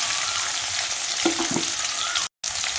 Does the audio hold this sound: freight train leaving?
no